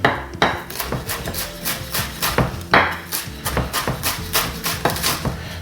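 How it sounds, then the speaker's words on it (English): A knife chops rolled basil leaves on a cutting board in quick, regular thuds, about a dozen close, crisp knocks with occasional louder strikes, no speech. "you can just sort of run your knife"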